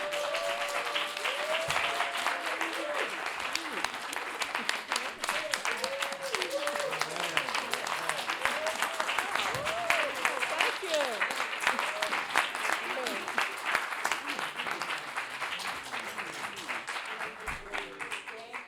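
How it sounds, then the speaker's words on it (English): An audience at an elders' writing workshop reading applauds, a steady, dense wash of clapping that carries on at an even level for close to twenty seconds. "Please give them another round of applause."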